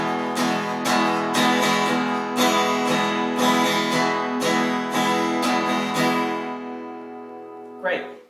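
Fast acoustic guitar strumming pattern in a home lesson, quick down and up strokes in a steady driving rhythm, close and clear with no talk, ending in a sustained ringing chord that fades out.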